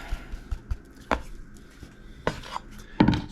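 Dry, gritty beach material being shaken through a kitchen strainer, giving a run of close, soft rattling taps followed by a few louder scraping bursts, with no talking.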